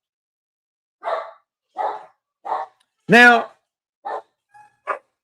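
Several dogs bark in short separate bursts inside a home, set off by someone arriving in the garage, with one louder, longer yelp-like bark in the middle and a spoken word close by.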